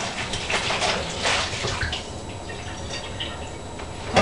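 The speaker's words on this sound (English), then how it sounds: "I pour my soy milk into there." Soy milk poured into a rinsed 3-quart plastic apple juice bottle, a close, steady liquid gush and splash with a few louder surges, and no talking over it.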